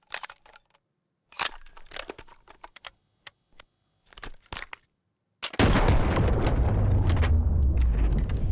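Gunfire from the shooter game Delta Force breaks out as a sustained, loud burst of automatic shots near the end, after a stretch of sharp, clicky keyboard typing and brief taps.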